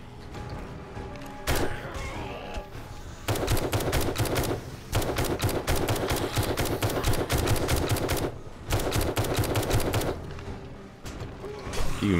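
Rapid bursts of automatic gunfire from the 7 Days To Die video game, firing in long continuous volleys with brief pauses, loud and close, with a short gap near the start and another midway.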